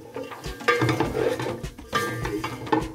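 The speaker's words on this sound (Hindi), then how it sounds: "बिल्कुल थोड़ा सा हम इसको फ्राई करेंगे इसमें।" Vegetables with green onion stir-fried for chicken macaroni: a spatula scrapes and clatters in the pan in steady repeated strokes over a soft sizzle, close and fairly loud, with no talking.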